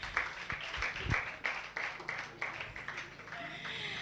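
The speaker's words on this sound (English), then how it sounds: "A round of applause for Jessica." An audience at a senior high school debate claps for a speaker, a burst of applause with distinct individual claps that swells and then thins out, heard at moderate distance.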